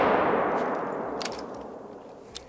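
A single loud rifle shot in the hunting video game Hunter: Call of the Wild, Yukon setting, with a sharp crack that rings and decays over a couple of seconds, followed by a faint metallic click.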